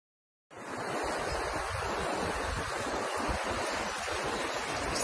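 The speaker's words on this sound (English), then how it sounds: "very rickety suspension bridge over quite a fast flowing river" A fast-flowing river rushes beneath a rickety suspension bridge in Bhutan, a loud, steady roar of water mixed with wind noise on the microphone that starts abruptly and runs unbroken, with no voices.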